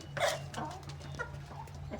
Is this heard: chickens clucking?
yes